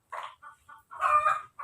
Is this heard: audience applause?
no